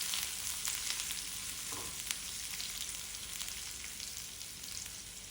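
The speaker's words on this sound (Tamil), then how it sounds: "நல்லா கிளறி விடுங்க." Sliced onion and chillies fry with a loud, steady sizzle and crackle in a pan for Maggi noodles, with occasional close scrapes and clicks from stirring. The sound is continuous, with no talking.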